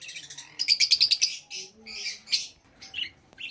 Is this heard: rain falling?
no